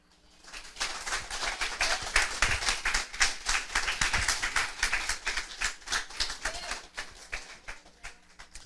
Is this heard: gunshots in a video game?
no